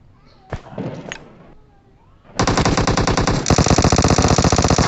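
Automatic gunfire in a shooting video game rattles out in loud, rapid continuous bursts after a brief stretch of someone talking, intensifying toward the end.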